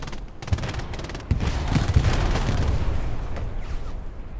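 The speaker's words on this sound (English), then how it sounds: "the artillery strike wipes the Puma" Artillery strike in a World War II battle game, a dense rumble of booms and blasts rolling for several seconds, loud and close, with scattered gunfire layered through it.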